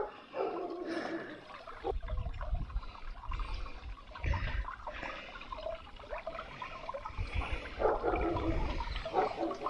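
Water being churned and stirred up by hand on a hot day in Crimea, with continuous sloshing and splashing and dull low thumps from movement in the water, close and fairly steady throughout.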